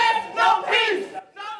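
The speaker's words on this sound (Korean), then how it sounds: "예상보다 낮은 형량 선고에 법정 밖에 시민들은 야유를 쏟아냈습니다" A crowd of citizens outside a courthouse boos and jeers after a lighter-than-expected sentencing, with loud, overlapping voices rising in two swells and then a shorter burst.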